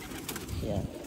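Pigeons coo in a short burst inside a rooftop loft, a low throaty rolling call close by, with no talk over it.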